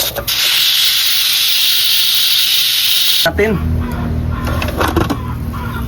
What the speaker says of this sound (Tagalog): Naka 10 minutes na, i-off na natin yung kalan. Pasingawin na natin to